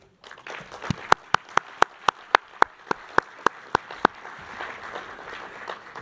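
Distinct, evenly spaced claps ring out in a steady rhythm, about a dozen sharp slaps in a reverberant hall at a conference gathering, honoring a string quartet, with a soft murmur of audience beneath and no talking over them.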